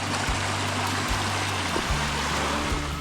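A mountain stream tributary swollen with snowmelt runoff rushes in a loud, steady, broadband flow, close by and continuous with no voices.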